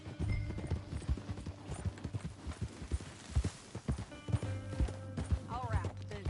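Horse hooves clip-clop steadily on a trail in the Red Dead Redemption 2 video game, a close, rhythmic walking gait with occasional whinnies and snorts, under intermittent spoken dialogue.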